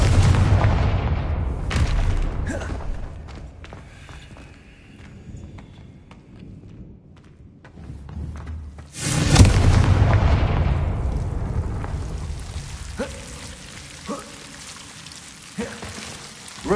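Booming Confringo blasting spell explosions in Hogwarts Legacy, an early blast and a heavier one midway, each with a long rumbling decay, alongside quieter magical effects and ambient game sounds.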